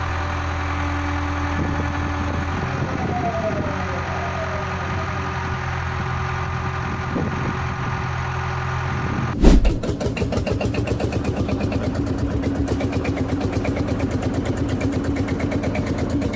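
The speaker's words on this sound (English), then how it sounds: "The engine was originally started by compressed air and is shown here rotated by a hydraulic motor for alignment testing." A steady hydraulic motor hum gives way to a sudden thump, then a large horizontal engine is rotated slowly by the motor with fast, even chugging pulses that continue to the end.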